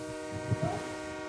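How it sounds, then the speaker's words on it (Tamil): A train approaching a station in a game, a low steady rumble with sustained horn-like tones and a brief louder swell partway through. "The train is now approaching."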